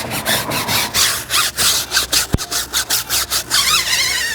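Hand scrubbing of a car tire with a brush during a wash, rapid back-and-forth rubbing strokes in an uneven rhythm, close and fairly loud with no talking.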